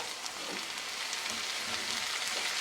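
Tomato goes into a hot frying pan and sizzles, a soft steady hiss with faint crackles, fairly quiet and with no voices.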